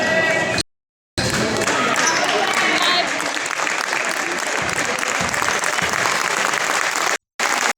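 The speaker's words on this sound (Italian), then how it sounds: "gli applausi per Stefano Puggioni standing ovation per il numero 15" A basketball crowd at a SEF Torres versus InnovYou Sennori game gives player number 15, Stefano Puggioni, a loud, continuous standing ovation, packed clapping and cheering filling the arena with only brief cuts in the sound.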